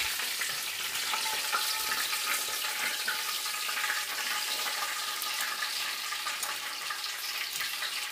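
Pieces of crunchy fried fish for sweet and sour fish sizzle and crackle steadily in a pan, a bright, continuous frying hiss with no talking.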